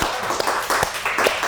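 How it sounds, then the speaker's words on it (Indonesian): A few sharp hand claps, roughly four, spaced unevenly over a second and a half, sounding close in a room with background murmur. "Saya boleh tepuk tangan, Pak?"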